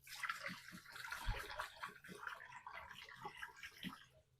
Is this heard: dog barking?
no